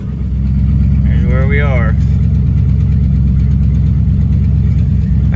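A 1955 Buick Nailhead V8 with an overheating problem runs at a steady, even idle with a low, constant rumble close by, while someone talks over it briefly.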